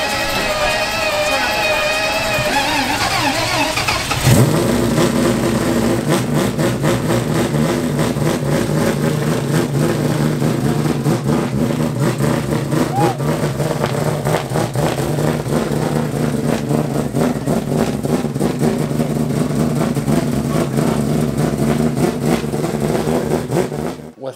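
A car engine cranks and catches after a few seconds, then runs loudly and steadily close by, idling with a rough mechanical rumble; voices can be heard faintly before it fires.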